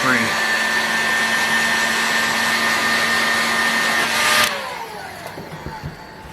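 A heat gun blowing steadily on a stiff, stuck part of a Fox Twin engine, a close, loud, constant whooshing whine that switches off and winds down, leaving faint clicks.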